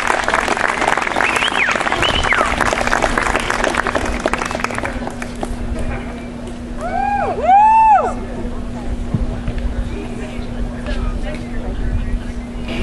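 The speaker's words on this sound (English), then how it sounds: "Let's give them a big round of applause for a wonderful tournament" Applause from the crowd at the 2014 Blue Moon MND tournament match, dense clapping filling the first few seconds before thinning into a low background while a voice speaks over it.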